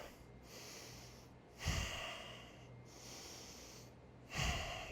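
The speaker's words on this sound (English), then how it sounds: "Deep breaths, deep breaths." Slow, deep breaths come in close, heavy inhale-exhale cycles while a person holds a static isometric exercise position in a home gym, each breath rough and audible above faint background noise.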